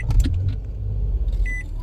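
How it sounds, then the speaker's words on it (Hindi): A 2016 Nissan Altima being started after being switched off: a brief cranking rumble and engine catch, with a low steady idle, light clicks and a short chime near the end, close and fairly loud, with no talking. "अभी जो है मैं गाड़ी को बंद करके स्टार्ट करता हूँ"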